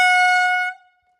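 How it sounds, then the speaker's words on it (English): A handheld air horn sounds outdoors in the wilderness as a single loud, bright, piercing blast lasting under a second, then cuts off into silence. "today we'll be blowing this air horn out in the wilderness."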